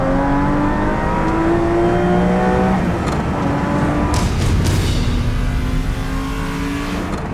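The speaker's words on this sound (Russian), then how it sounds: "со звуком, с этим шепотом мотора Lamborghini" A Lamborghini engine revs loudly and continuously, its pitch climbing and falling through several sweeps with a smooth, powerful roar, and no voices over it.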